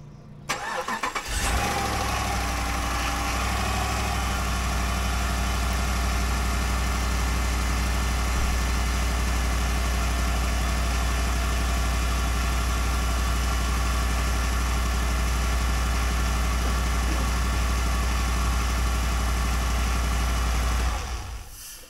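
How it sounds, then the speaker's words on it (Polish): A Jeep 5.7 L HEMI V8 engine idles steadily for about twenty seconds with a constant low rumble, starting abruptly and cutting off at the end. "zakręcę teraz silnikiem na moment tylko"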